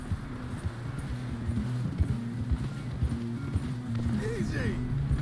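Horse hooves in Red Dead Redemption 2, a rhythmic clip-clop of a ridden horse moving at a steady pace, with voices talking over it and a brief whinny-like sound near the end.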